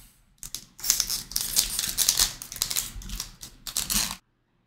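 Foil hockey trading card packs from a 2018 SP set being torn open by hand, a burst of close, crisp crinkling and ripping that stops abruptly.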